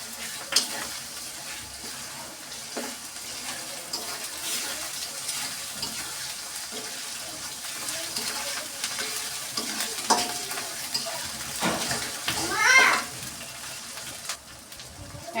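Ginger garlic paste frying with onions in a pan, a continuous close sizzle with scraping stir strokes and a brief louder hiss near the end, no talking.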